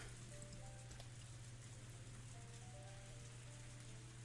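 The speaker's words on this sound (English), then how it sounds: "And the rain is fucking loud." Rain in the video game Higurashi When They Cry - Hou makes a steady, even hiss with a faint low hum beneath it, unbroken throughout and with no voices.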